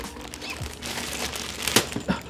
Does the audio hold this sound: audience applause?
no